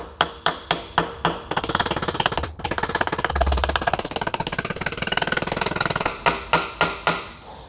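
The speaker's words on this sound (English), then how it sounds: "So I've got my hammer here." A hammer taps a part into a Tesla large drive unit during a rebuild, with a steady run of close, loud metallic strikes. The strikes come fast and evenly, then slow into separate spaced blows near the end.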